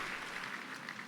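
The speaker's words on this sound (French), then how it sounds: "acclamez très fort pour le Seigneur" A church congregation claps together, a brief, soft, even patter of many hands heard from a distance.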